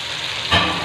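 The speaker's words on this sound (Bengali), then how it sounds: "আদা, রসুন, টমেটো, পেঁয়াজ এগুলো আর কি খুব ভালো করে আমি এবার ভেজে নেব।" Ginger, garlic, tomato and onion sizzle in hot oil in a pan, a steady close frying hiss with a brief louder flare in the middle.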